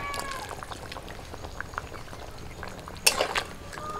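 Soaked ripe tamarind water poured into a cooking pot on the stove, a close gurgling pour over a background of bubbling and sizzling, with a brief sharper splash near the end.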